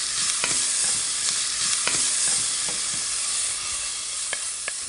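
Onions and minced garlic sauté in a pan for mac and cheese, a steady bright sizzle with scattered clicks of stirring, close and continuous with no voices.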